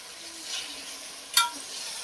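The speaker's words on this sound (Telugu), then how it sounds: "సో ఇప్పుడు టమాటాలు బోటి ముక్కలు మంచిగా కలిసేటట్టుగా బాగా కలుపుకోవాలి" Tomatoes and tripe (boti) pieces are stirred together in a pan over a soft, steady sizzle, broken once by a single sharp scrape of the spoon; no speech.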